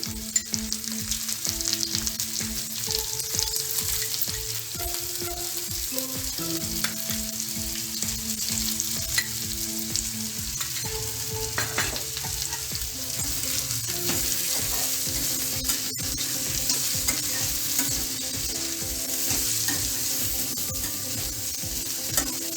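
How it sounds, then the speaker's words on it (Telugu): Sliced bitter gourd with turmeric fries in a pan over low gas, giving a continuous, loud sizzle with occasional stirring scrapes and clinks throughout, with no talking. "గ్యాస్ సిమ్లోనే పెట్టుకొని ఫ్రై చేసుకోవాలండి, మాడకుండా."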